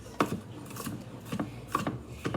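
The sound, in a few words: chopping garlic with a knife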